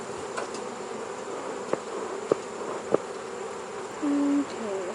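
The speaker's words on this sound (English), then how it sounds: "I'm going to shake off the bees a little bit so they don't get lost." A steady, close buzzing of many honeybees during a hive check, with a few light clicks and taps over the drone as bees are shaken off a frame.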